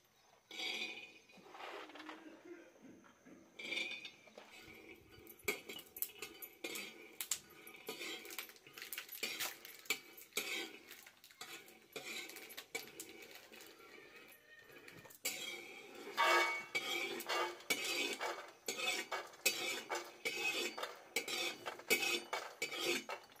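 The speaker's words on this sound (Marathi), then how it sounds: "आता ही आपण शेंगदाणे भाजून घेऊ कारल्यासाठी." Peanuts roast in a pan for a bitter gourd dish while a metal spoon scrapes and clinks against the pan, in irregular bursts of rattling strokes that grow busier in the second half.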